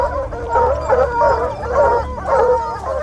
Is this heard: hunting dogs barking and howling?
yes